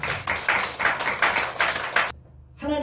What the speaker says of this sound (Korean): 우리 박수로 좀 환영합시다.